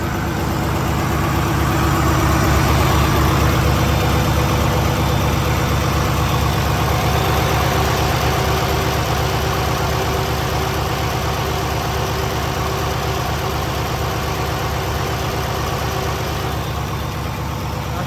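A 2019 Peterbilt 579 truck with a Paccar MX13 diesel idles steadily and loudly up close, a constant low rumbling drone with even mechanical clatter throughout and no voices.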